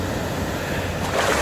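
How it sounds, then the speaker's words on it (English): Pacific Ocean surf on the California coast, a continuous loud wash of breaking waves with wind buffeting the microphone, swelling slightly near the end. "enjoying some waves here at Pacific Ocean."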